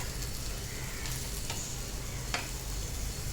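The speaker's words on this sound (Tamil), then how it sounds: "2 பக்கமே நல்லா ஃப்ரை ஆகிடுச்சு." Paneer pieces roasting in a pan for paneer biryani give a dense, continuous sizzle close up, with a few brief sharper crackles and no voices.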